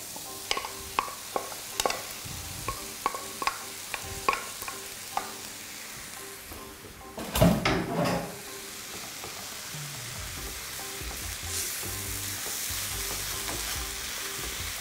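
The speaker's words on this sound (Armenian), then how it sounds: "Հենց այս պահին ավելացնում ենք բրինձը," Rice is stirred and frying in a pan, with a run of sharp scraping stirs early on and a louder burst of stirring midway. A steady sizzle runs underneath throughout, close by, with no talk.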